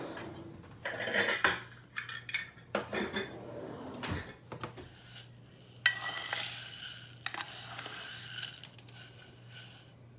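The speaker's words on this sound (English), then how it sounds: "I'll put the couscous in and kind of get it toasted" Couscous toasting in olive oil in a pan gives a soft sizzle, with a utensil scraping, stirring and clinking against the pan in irregular bursts, moderately close and without talk.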